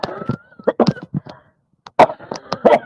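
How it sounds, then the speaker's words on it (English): A few sharp coughs and throat-clearing bursts close by, mixed with brief vocal sounds and a short pause in the middle. "Oh, wait, I have to cough."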